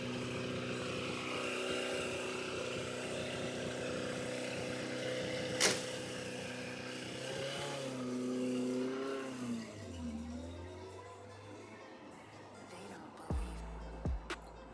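A Suzuki Katana motorcycle ridden off by its new owner, its engine droning steadily and then shifting and fading as it pulls away, ending with a few louder bumps.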